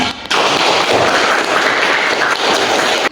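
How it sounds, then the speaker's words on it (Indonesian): Class of students applauding at the end of a lesson, a loud, dense wash of clapping that starts abruptly, holds steady for about three seconds and then cuts off. "Tepuk tangan untuk kita semua."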